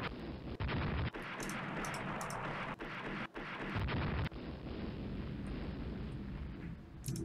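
Naval gunfire in the Rule the Waves game, 5-inch shells striking a ship, heard as a dense, sustained roar of booming explosions with brief gaps, loud and continuous with no talk.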